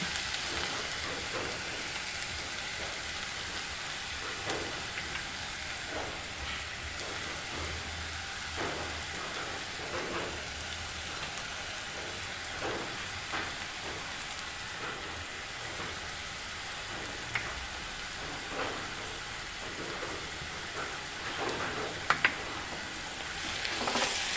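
Sliced onions and spice powders sizzle and fry in a pan over a very low flame while cooking a squid roast, a steady soft crackling hiss with scattered faint pops throughout.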